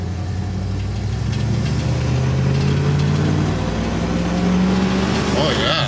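A 1970 Ford truck engine pulls steadily under acceleration while driving, a loud continuous low drone with rising pitch through the gears, and a voice talks over it.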